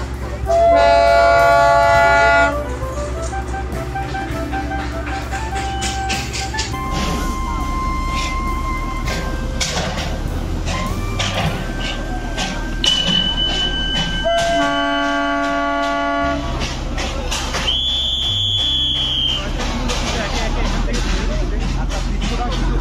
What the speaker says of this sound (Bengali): টয় ট্রেনগুলো কিন্তু একে একে এখান থেকে ছেড়ে দিচ্ছে